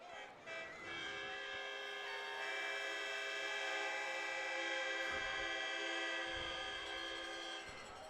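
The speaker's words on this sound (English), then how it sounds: "Somebody trying to be the last air horn to blow over on the far side." An air horn blowing at a 14U youth football championship game, Cocoa vs Merritt Island, a loud sustained blare that holds for several seconds with crowd noise around it.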